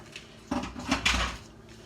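Dishes set down in a kitchen sink, a short cluster of close clanks and knocks of crockery and utensils against each other, lasting about a second in a quiet room.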